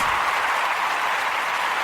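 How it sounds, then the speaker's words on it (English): Steady crowd-style applause fills the whole short stretch, a dense even wash of clapping at moderate loudness with no voices over it, offered as a thank-you at the close of a Pelicans basketball postgame show. "I'm going to give you guys a round of applause."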